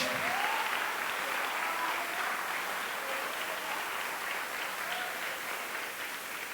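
A church congregation gives a strong round of clapping, broad and continuous, holding steady across the whole stretch and easing off slightly at the end.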